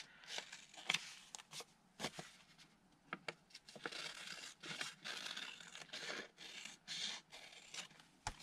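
Scissors cut along the edge of a sheet of paper, a close, quiet run of snipping and crisp rustling with short pauses between strokes and no talk.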